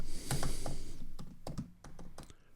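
Keys clatter on a computer keyboard as code is typed, a run of irregular, close, fairly quiet clicks with no talk.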